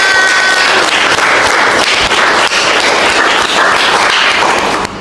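Loud, dense clapping from an audience at an Indonesian health college teaching session, sustained and close for several seconds before tapering slightly at the end.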